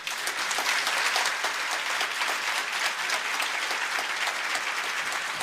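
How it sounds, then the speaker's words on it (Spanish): Loud, dense applause from an audience at a church debate event, steady crowd clapping continuing evenly throughout. "ahora pido un fuerte aplauso para ellos"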